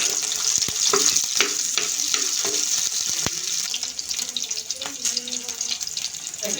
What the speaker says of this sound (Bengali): মরিচগুলো আমি টালা দিয়ে নিব।